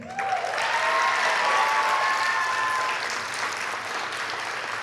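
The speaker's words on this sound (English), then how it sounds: "Please give a round of applause to Mohammed Laray." A graduation audience applauds an award recipient, a sustained, even wash of clapping from a large crowd in a hall, with faint cheering tones mixed in.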